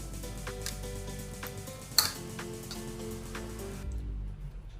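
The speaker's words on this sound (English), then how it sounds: "you're going to just fold in everything, all of your ingredients together" Guacamole ingredients are folded together in a bowl, soft wet squelches with light scrapes and ticks of a utensil, and one sharp clink of the utensil against the bowl midway, over a steady low hum.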